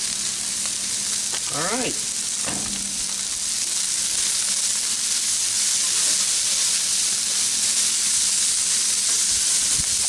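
Cheesesteak meat and mushrooms sizzle on a Blackstone griddle in a steady, loud hiss that fills the whole stretch, with a brief spoken word and a couple of utensil scrapes near the start.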